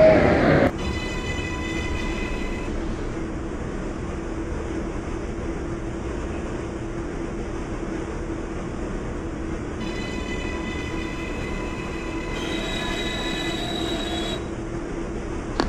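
An R142 subway train on the 6 Local line in the OpenBVE simulator runs steadily with a continuous rumble, wheel squeal and high whining tones that fade and return near the end.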